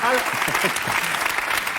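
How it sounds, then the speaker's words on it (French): A studio audience at a rock music television broadcast claps in dense applause for Professor Scheller, while a voice talks over the clapping throughout. "C'est professeur Scheller, vous pouvez l'applaudir, ça lui fera très plaisir."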